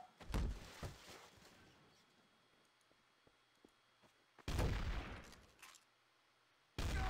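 Gunfire in the multiplayer game Trouble in Terrorist Town sounds as sharp, loud bursts: a cluster of shots at the start, then a long quiet stretch with faint thuds, then two more heavy blasts.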